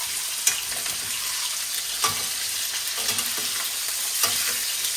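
Pork chops fry in a pan, giving a steady close sizzle and hiss with occasional sharper pops and a few utensil taps, and no talk.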